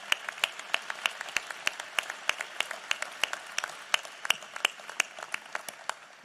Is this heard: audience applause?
yes